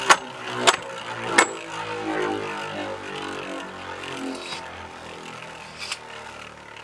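A Beyblade Burst Legend Spryzen top, launched from a white launcher in white spin mode, gives a few sharp clacks at launch, then a steady whirring rattle as it spins alone in the stadium.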